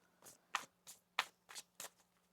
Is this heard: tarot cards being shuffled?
yes